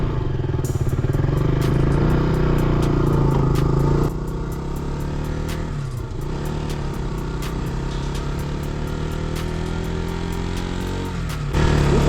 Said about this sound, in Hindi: Going to drive Duke 200 for a bit.